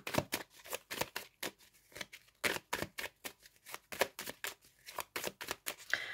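Tarot cards being cut and handled by hand, a steady run of crisp papery snaps and riffles in quick irregular rhythm, close and fairly quiet, with no talking.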